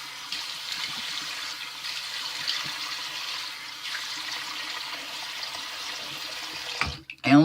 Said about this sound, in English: So let me rinse off this alum.